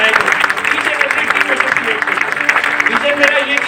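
Dense, steady applause from a seminar audience fills the room throughout, with no let-up in the clapping.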